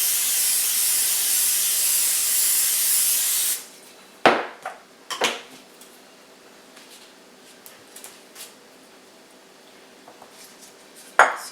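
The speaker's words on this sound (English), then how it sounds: "And spray our pan so we can lay these baby trees on it." A steady aerosol cooking spray hisses onto a pan for several seconds, then stops, followed by a few scattered clanks of the pan being handled.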